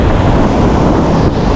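Steady, loud roar of surf rolling onto a beach beside a deep hole just off the shore, constant broadband wash with wind buffeting the microphone and no breaks or talking.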